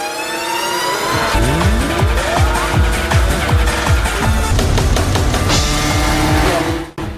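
Two-stroke motorcycles revving hard at the start of a street race, loud buzzing engines rising and falling in pitch through repeated throttle blips, close and continuous with no talk.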